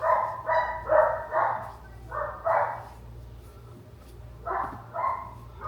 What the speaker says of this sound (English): Don't mind the dogs barking either.